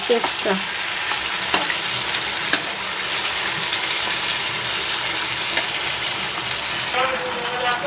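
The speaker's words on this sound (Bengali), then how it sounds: "এগুলোকে আগে ফ্রাই করে নিই, হালকা করে ফ্রাই করে নিই।" Pieces of meat fry in a pan with a loud, continuous sizzle, while a few scattered clicks and stirring knocks come through and no one speaks.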